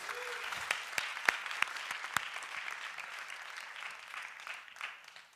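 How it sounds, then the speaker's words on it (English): At an international Famelab semifinal, a modest audience applauds Álvaro Morales. The clapping is moderate and a few sharp claps ring out near the start, then it continues softer and slowly tapers off. "Round of applause, please, for Alvaro Morales."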